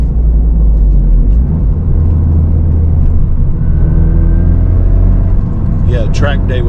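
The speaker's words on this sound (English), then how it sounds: "Let's hear this rev matching." A 2024 Toyota GR Corolla hot hatch engine rumbles loudly and steadily from inside the cabin, with a rising rev-match blip toward the end, while a person talks over it.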